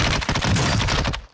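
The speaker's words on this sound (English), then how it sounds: "You are taking effective fire." Sustained burst of gunfire in a Call of Duty DMZ firefight, a dense rapid volley of shots lasting just over a second, loud and close, then cutting off abruptly.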